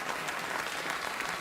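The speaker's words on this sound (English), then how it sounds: "what the audience is telling us with that applause" A studio audience at a late-night talk show applauds steadily, a dense, even wash of many hands clapping close and loud throughout the short stretch, with no voices standing out.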